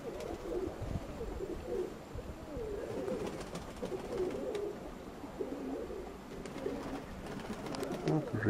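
A flock of racing pigeons coos steadily in a loft as they land after their daily flight, soft overlapping throaty calls close by with faint wing flutters and rustling throughout.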